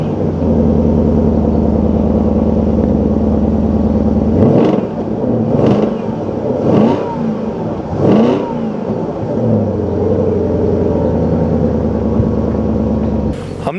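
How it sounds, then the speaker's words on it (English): A 2009 Porsche Cayenne S with a 4.8-litre V8 rumbles at idle, then blips through four sharp revs in quick succession before settling back to a steady, deep idle, heard up close and alone. "I'm not sure if you could hear the rumble of this awesomely well-sounding V8."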